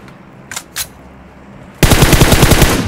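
Rapid machine gun fire in a video game, a loud sustained burst of evenly spaced shots starting abruptly after a couple of faint thuds, continuing to the end.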